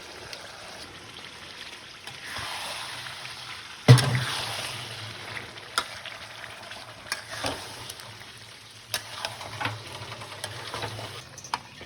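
Mutton sizzles in a pan as a yogurt and spice mix is stirred in, a soft steady frying hiss with scattered scraping and clanking stirs, some louder knocks near the start.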